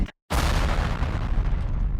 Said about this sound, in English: an explosion means it's time to cut to Lloyd's other show